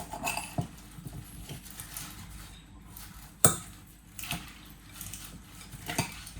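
A salad of cucumber, tomato, cheese, avocado and rocket is tossed in a bowl, giving soft, irregular patters and light utensil scrapes, with one sharp clink near the middle.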